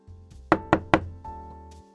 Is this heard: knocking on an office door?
yes